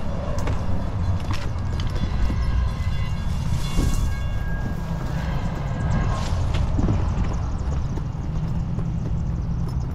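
Rail traffic passes near a train station in East St. Louis: a continuous low rumble with rhythmic clacking and brief high metallic squeals, heard from outside at moderate distance for the whole stretch.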